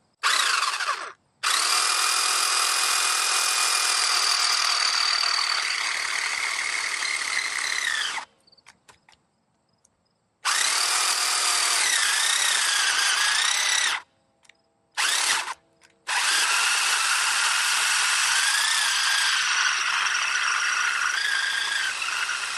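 A Seyvum cordless pole chainsaw cuts through a 6-inch log, its high whining motor running in long loud bursts that stop abruptly, with brief pauses between three or four cutting runs.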